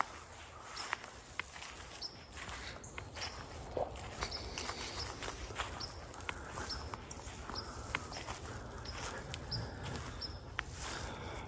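Footsteps moving through a forest at daybreak, soft irregular crunches and taps at middle distance under a steady wash of ambient noise and scattered bird calls.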